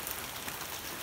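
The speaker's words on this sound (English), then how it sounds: "you can just enjoy the rain sound" Steady rain falls on a surface outdoors, a dense, even hiss of drops heard alone at moderate volume.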